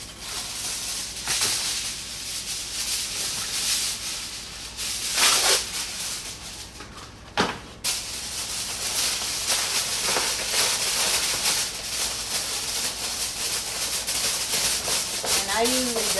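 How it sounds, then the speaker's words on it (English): Aluminium foil being torn and crinkled while preparing a family meal in a home kitchen, a dense rustling crackle running steadily throughout with a few sharper rips and no talking. "Tearing the foil up"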